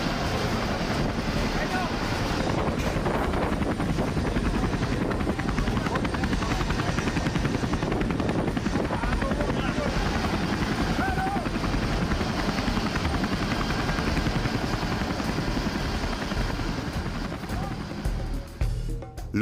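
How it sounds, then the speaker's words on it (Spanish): Three helicopters escort a small plane during a prisoner transfer operation, their rotors producing a loud, steady, continuous roar that fills the scene and fades slightly only at the very end. "La avioneta en la que viajaba estaba custodiada por 3 helicópteros"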